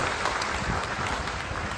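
An audience claps for India, a brief, dense, even wash of many hands clapping at steady volume, with no break across the short moment.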